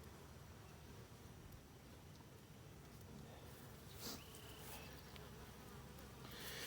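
Honey bees buzz in a steady, soft drone around a hive box during a Langstroth to Layens conversion, with a few louder passes near the microphone.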